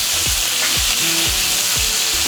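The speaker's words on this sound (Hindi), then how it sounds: "अब हमारा ये चिकन जो है फ्राई हो चुकी है" Chicken pieces for creamy Afghani chicken fry in a pan with a constant loud sizzle, broken by several repeated scraping strokes of a spatula against the pan.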